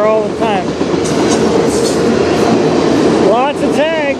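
A CN freight train rolls past on the Strathroy Subdivision, a loud, steady rumble of rail cars with wheel squeals and faint voices underneath throughout.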